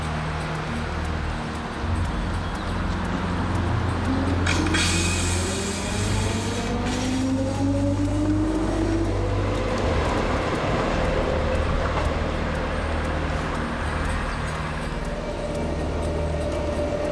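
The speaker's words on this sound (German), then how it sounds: "Hier ein Zug auf der Strecke Wuppertal-Essen im Bahnhof Fellbert-Langenberg." An electric commuter train of the DB class 420 at Velbert-Langenberg station on the Wuppertal–Essen line: a loud steady electric drone with rising and falling motor whine, continuous rumble through the whole stretch, no talk.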